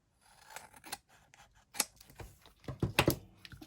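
Old scissors snipping through a postcard in a series of crisp, close cuts, short bursts at uneven intervals with the loudest snips clustered near the end, and no talking.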